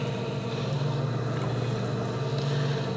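Steady low motorized hum of a potter's wheel spinning at moderate speed while a large eighteen-inch clay bowl is thrown, a continuous drone with no talk.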